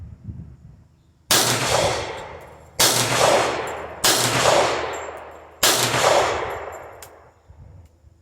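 Four sharp pistol shots from handloaded Blue Bullets, spaced about a second or two apart, each a loud crack with a long ringing decay, no talking.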